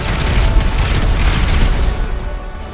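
A sustained, heavy rumbling boom fills the clip, loud and dense in the low end, like a massive explosion rolling on without a break, from two planes colliding on a runway during takeoff.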